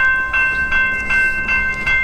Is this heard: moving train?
yes